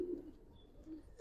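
Giribaz pigeons coo faintly, one low rolling call at the start and another near the end, against a quiet background.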